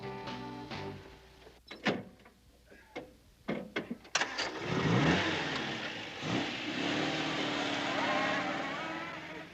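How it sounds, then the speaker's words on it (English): A car engine is cranked with a few sharp clicks and bursts, then catches and revs up strongly, holding a loud, rising roar that settles into a high steady run. "You'll see a puff of smoke from my exhaust when I cut in the motor."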